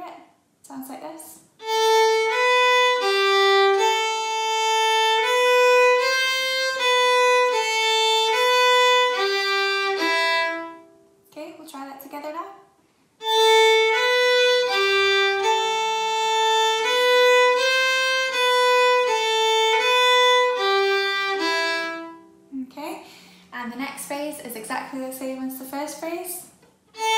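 Solo fiddle plays two paired phrases of the Manx tune Myr Shenn Ayr, clear sustained bowed notes moving stepwise, close and loud, with brief pauses between passages and a voice speaking briefly near the end.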